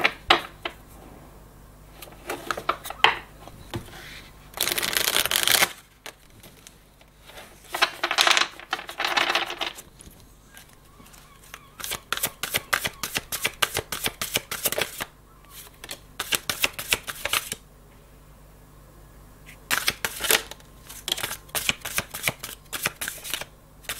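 Tarot-style cards are shuffled and drawn for a reading in repeated, close riffling bursts of papery flicks and snaps, separated by short pauses with soft handling.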